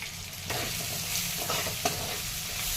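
Onion sizzling in a pan with cumin, mustard seeds, curry leaves and a little turmeric, a steady close crackle broken by scraping strokes of a spoon stirring the mixture, with no voices.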